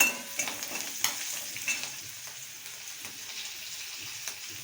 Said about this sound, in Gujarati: આ મરચાં નાખશું। આપણે હલાવી લઈએ